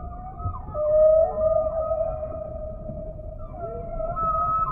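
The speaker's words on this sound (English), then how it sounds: "The whales in different oceans have different songs." A humpback whale sings in the South Pacific, long sustained tonal moans and rising calls carrying through open water, alone and fairly loud.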